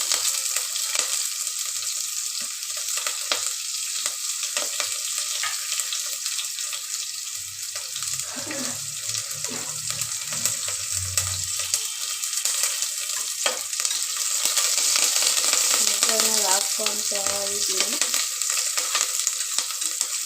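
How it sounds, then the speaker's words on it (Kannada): Loud, continuous sizzling and crackling of tempering spices in hot oil for sambar, with occasional stirring and a brief clatter partway through. "ಒಗ್ಗರಣೆ ಐಟಮ್ ಎಲ್ಲ ಹಾಕೊಳ್ಳೋಣ"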